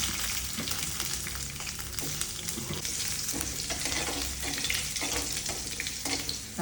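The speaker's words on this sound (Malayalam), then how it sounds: "ഞാനിങ്ങനെ താളിച്ചിട്ടങ്ങ് വെക്കാം" Red chilli and onion sizzle and crackle in hot oil for an Onam tempering, a steady close frying hiss with occasional stirring scrapes and no voices.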